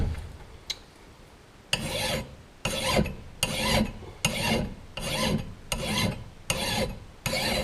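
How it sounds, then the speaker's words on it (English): A metal file rasps against an old Sager Chemical axe blade during its restoration, producing about eight loud, regular grinding strokes close by with short gaps between them. "to do it right I like to sharpen into the blade. And you want a metal file"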